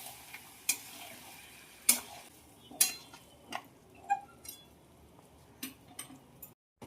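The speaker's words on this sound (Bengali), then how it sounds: "নেড়ে দেবো" A spoon stirs meat curry with ground spices and turmeric in a pan, producing faint, scattered clicks and scrapes against the metal at an irregular, unhurried pace over a low, quiet background.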